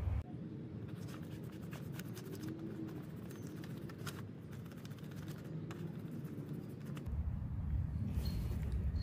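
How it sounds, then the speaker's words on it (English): A dandelion leaf rubbed across paper to transfer its colour, making a steady, close, scratchy friction that runs the whole time and grows a little louder near the end. "I am actually going to rub this on my paper to rub off some of the color to decorate my paper"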